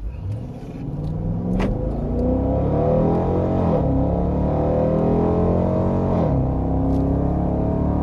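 A Dodge Durango R/T HEMI V8 roars up from a standstill in track mode, revving hard through rising gears with a short shift break, loud and close from inside the vehicle.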